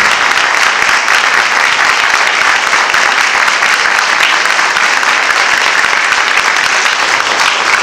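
Steady, loud applause from an audience at a meeting, dense continuous clapping throughout with no pauses.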